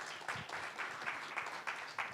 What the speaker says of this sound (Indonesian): Berikan tepuk tangan buat Tuhan kita saudara